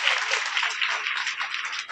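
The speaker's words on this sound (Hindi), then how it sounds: "एक बार जोरदार तालियाँ बजा" Crowd applause at a school poetry gathering, a dense, steady wash of many hands clapping together, moderately loud and sustained without a break.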